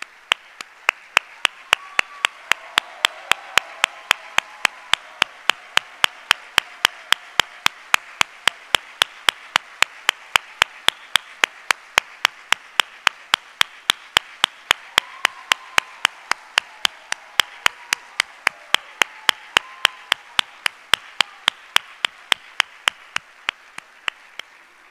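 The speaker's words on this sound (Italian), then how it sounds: "Per loro un applauso." An Italian event audience welcomes the guests Carlo Verdone and Paolo Mereghetti with long, steady rhythmic clapping in unison, sharp regular beats over a continuous crowd wash for nearly half a minute.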